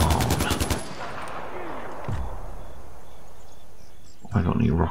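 Bursts of rapid turret gunfire in the video game Far Cry 4, a fast rattling volley at the start and another near the end, with quieter game ambience in between.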